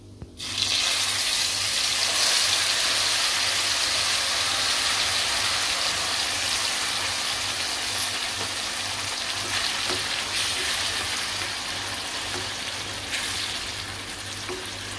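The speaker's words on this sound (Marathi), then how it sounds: "आता मसाला आपण वाटलेला आहे तो टाकायचा आहे तेलावरती" Ground masala frying in oil with bay leaf and cumin for masala bhendi, a steady loud broadband sizzle that starts abruptly and holds evenly throughout, with faint stirring and no talking.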